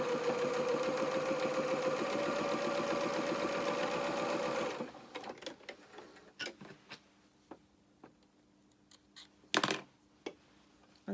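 A sewing machine stitches quilt fabric pieces at a quarter-inch seam allowance for a medallion centre block, running in a steady close whirring rattle for about five seconds, then stopping, followed by scattered soft handling clicks and taps.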